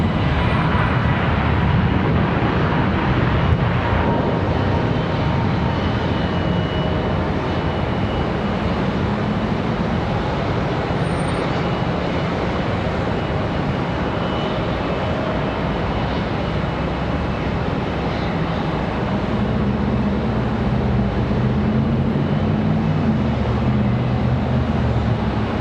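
Steady broadband jet roar at Charlotte Douglas airport while a Southwest airliner pushes back from the gate, a continuous rumbling wash of engine noise with faint tonal whine, no voices.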